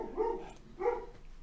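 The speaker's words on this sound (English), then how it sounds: "She's barking at seagulls." A female dog barks at seagulls outdoors, two distinct barks about half a second apart, close and fairly loud, with no talking.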